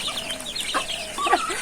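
Village chickens of local Deshi and Fayoumi breeds clucking nearby, a few soft overlapping clucks and murmurs against quiet rural background, no talk.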